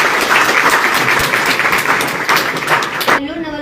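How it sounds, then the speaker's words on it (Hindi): Loud, dense applause from an audience welcoming a guest at a birthday greeting event in Mukundgarh, steady clapping for about three seconds before cutting off abruptly into quieter room sound. "तो इनके लिए एक बार जोरदार तालियां हो जाए।"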